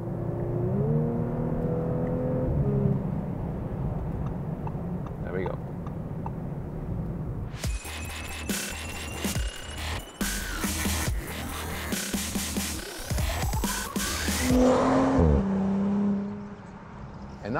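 The V6 engine of an Audi S5 Cabriolet rises and falls through manual downshifts, engine pitch sweeping up in rapid changes, near and loud, with someone talking early on.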